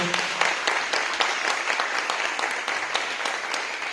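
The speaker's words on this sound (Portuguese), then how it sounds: "Você pode aplaudir o Senhor com alegria nessa noite." A church congregation applauds together during an evening service, a dense, steady wash of many hands clapping close and loud with no talk over it.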